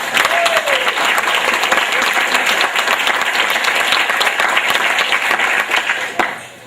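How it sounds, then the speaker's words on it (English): An alumni banquet crowd gives Jeff a big round of applause, dense and loud sustained clapping lasting several seconds before fading out quickly at the end. "we really need to give Jeff a really big hand of applause for a great job"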